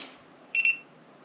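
A TPMS tire pressure monitor sounds a single short, high-pitched electronic warning beep, clear and close against a quiet background.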